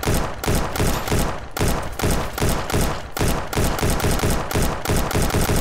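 Loud, rapid gunfire from a gun in the video game Ancient Warfare 3: close shots repeat in a quick, steady rhythm with short gaps between bursts.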